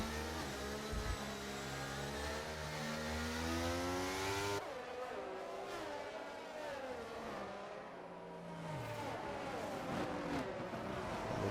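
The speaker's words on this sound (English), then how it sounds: "It will move away from the pack and accelerate away into the pit lane." An Aston Martin safety car in a racing video game, its engine roaring steadily and rising in pitch as it accelerates. It shifts gear about halfway through, then climbs again, loud and close throughout, with no talking.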